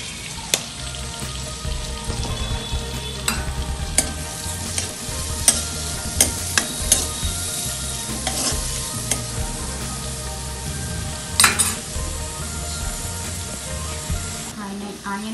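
Onions fry in a pan for pav bhaji with a steady crackling sizzle, broken by scattered clicks and scrapes of stirring and a louder clatter near the end.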